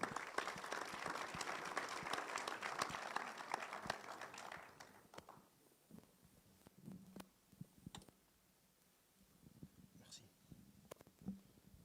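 Audience applause at a bullfighting feria announcement, fairly loud clapping for about five seconds that fades into scattered claps and quiet room noise.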